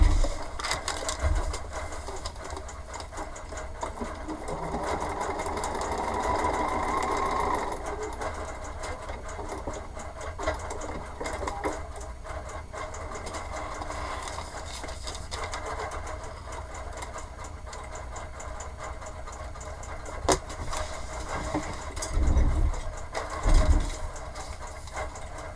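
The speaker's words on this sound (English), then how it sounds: "And let's go sew it." A sewing machine stitches foundation paper pieced pumpkin fabric, a steady close mechanical hum running continuously for about twenty-five seconds, with a few soft thumps near the end.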